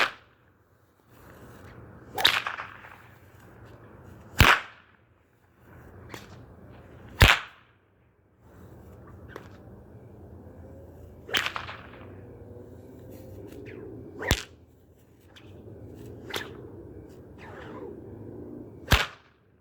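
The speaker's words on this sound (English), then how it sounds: "So, again, overhand flicks, but this time I'll be changing different planes with them." Whip cracked with overhand flicks in different planes gives sharp, loud snaps at irregular intervals of a few seconds, each preceded by a soft swishing whoosh, around eight cracks in all.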